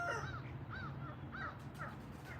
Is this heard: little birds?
yes